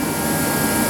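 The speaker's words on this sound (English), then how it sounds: "got the kerosene heater running because it's a little chilly out." A kerosene heater runs in a chilly garage with a steady, loud, broadband roaring rush, close by and unchanging through a brief moment, no voices.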